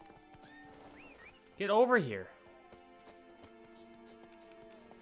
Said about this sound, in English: Horse, what are you doing?